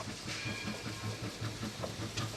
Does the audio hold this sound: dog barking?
no